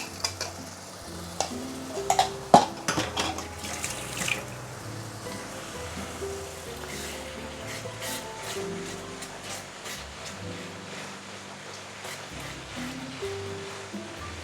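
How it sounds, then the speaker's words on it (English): Sarawak laksa curry paste sautéing in oil, a steady sizzle with a spatula stirring and scraping the pan, a few sharper clinks early on, close and continuous without talk. "So I'm going to saute this for the next couple of minutes"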